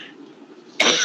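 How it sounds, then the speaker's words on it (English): A single short, sharp cough bursts out near the end after a quiet stretch, close and clear with no talking. "I have a bad cough and cold because of this weather."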